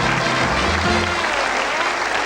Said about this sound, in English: Nice warm round of applause.